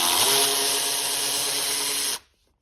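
A power tool whirs loudly and continuously at close range while removing the seat bolts on a Suzuki DRZ400SM motorcycle, a high steady buzz that stops sharply after about two seconds.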